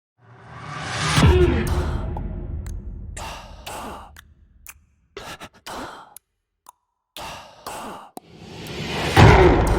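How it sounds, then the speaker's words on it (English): Whoosh hits made with a contact instrument in the Unsung sound-design toolkit: a loud swelling swoosh that lands on a thud, then a run of short choppy whooshes and gaps, closing with another strong hit. "creating hits and whoosh hits, risers, and rhythmic patterns and single sounds"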